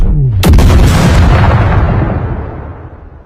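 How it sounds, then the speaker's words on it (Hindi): Anime explosion as bubble gum filled with explosive gas bursts: a sudden loud blast followed by a long, rumbling roar that slowly fades over a few seconds. "जब बबल फटता है, धमाके वाली गैस ऑक्सीजन से मिलती है"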